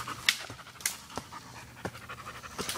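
A puppy pants close by in quick, soft, breathy bursts, some sharper than others, with light rustling and no talking.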